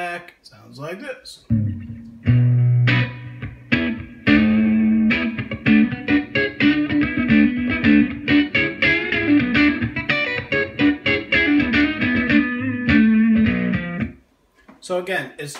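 An electric guitar played through a Line 6 Helix and recorded into GarageBand comes back on playback as a quick, busy run of picked notes with effects, lasting about fourteen seconds before stopping.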